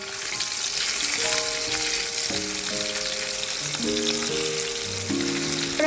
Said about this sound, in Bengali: এদিকে আমি পেঁয়াজটা ভাজতে দিয়েছি আর গ্যাসে মাছটা ভাজতে দিয়েছি।